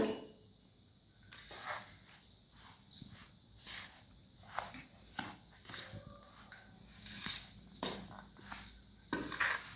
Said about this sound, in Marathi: गुळ गरम आहे आपलं, त्यामुळे आपण चम्मचच्या मदतीने मिक्स करून घ्यायचे.